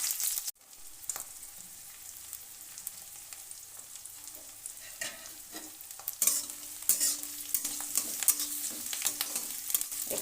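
Chopped garlic and onion sizzle and crackle in a hot oiled pan while being stirred, with scattered sharp pops and scraping over a low, steady fry.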